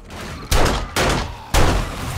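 Three loud gunshot blasts in the video game 7 Days to Die fire at uneven intervals, each a sharp burst that rings out briefly before the next.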